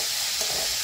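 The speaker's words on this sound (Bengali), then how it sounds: "আলু দিচ্ছি, আলু বেশি দিচ্ছি না" Potatoes dropped into a hot pan of river-fish curry, setting off a loud, steady sizzle and crackle of frying oil that fills the brief moment.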